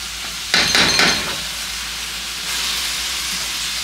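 Fresh bamboo shoots being stir fried in a pan, a continuous close sizzle with a brief louder scraping burst of stirring near the start, no talking.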